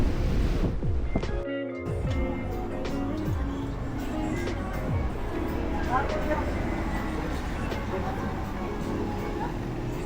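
Ocean waves washing in at a rising tide, a continuous rushing surf with wind buffeting the microphone, fairly close and steady throughout.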